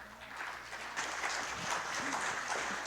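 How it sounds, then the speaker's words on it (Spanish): An audience gives a speaker a welcoming round of applause at a formal event, a continuous spread of many hands clapping that stays steady, with faint voices underneath. "Por favor, la recibimos con un fuerte aplauso."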